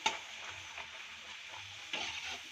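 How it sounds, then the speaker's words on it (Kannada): Talipattu flatbread fries gently in oil over a low flame, giving a soft, even sizzle with a few faint scrapes and taps, quiet overall and with no voices. "ಇದೇ ತರ ಲೋ ಫ್ಲೇಮಲ್ಲೇನೆ ಚೆನ್ನಾಗಿ ಫ್ರೈ ಮಾಡ್ಕೊಳ್ಳಿ."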